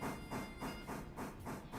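A train moving in the railroad simulation game Railroader: a low, steady rolling rumble with rhythmic wheel clacks recurring every fraction of a second and a faint hiss of steam.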